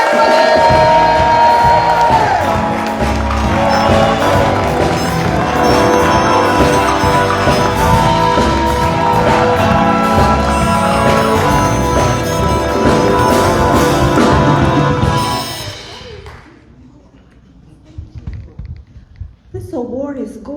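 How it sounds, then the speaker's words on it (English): An audience at a film festival awards ceremony in Gary cheers and claps loudly and steadily for about fifteen seconds, then the noise drops away abruptly, leaving quiet room sound and brief faint movement. "I need you to start clapping right now for Miss Latrice Edwards!"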